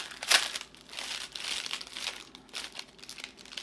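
Packing tape is peeled off a cardboard box holding a crystal and gemstone order, a close crinkly tearing and rustling with a sharp rip near the start followed by several softer crackling pulls.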